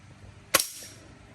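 A single sharp crack of a BB rifle being fired outdoors, a sudden loud snap with a short decaying tail, preceded by faint background noise.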